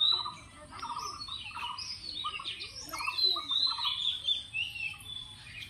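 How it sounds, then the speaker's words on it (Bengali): Several wild birds chirp and call in the afternoon outdoors, a steady overlapping mix of high tweets and short whistled notes at moderate distance with no talking. "পাখির কলকাকলি শুনতে খুবই ভালো লাগে।"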